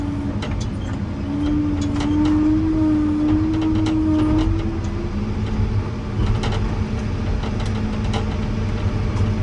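A motor grader's diesel engine runs steadily while cutting a road ditch, a loud continuous rumble with a rising mechanical whine early on and occasional clanks from the blade.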